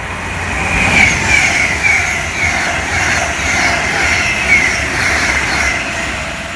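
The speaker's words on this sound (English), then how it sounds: "The next train approaching is the Virgin train service towards Stoke-on-Trent." A Virgin electric train approaching Long Port on the line towards Stoke-on-Trent, a loud close rumble of wheels and motors with faint high squealing tones, steady throughout with no talk.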